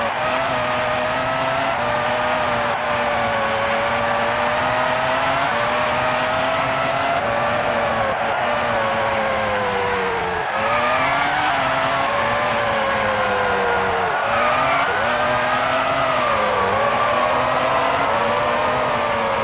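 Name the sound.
race car engine and tire squeal in Formula 1 PS1 video game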